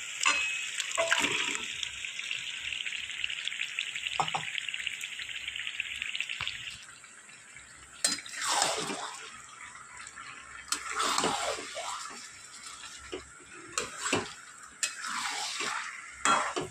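Marinated chicken with ginger and garlic is added to a hot pan of spiced oil for capsicum chicken. A hissing sizzle fills the first few seconds, then gives way to intermittent spoon scrapes and clinks against the pan.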